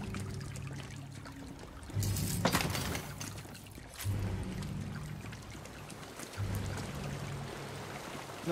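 A waterfall in Tiny Tina's Wonderlands gives a soft, steady rush of falling water, faint and continuous, with a few low thumps rising and falling beneath it.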